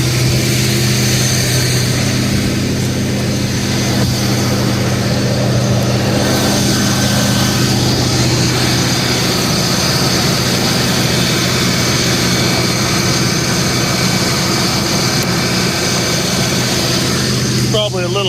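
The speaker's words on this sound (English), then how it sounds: "See if we can get it to run and idle" A small engine idles steadily and evenly for the whole stretch, with a constant droning hum and no breaks, close by and fairly loud, with a brief rattle near the end.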